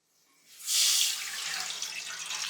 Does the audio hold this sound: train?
no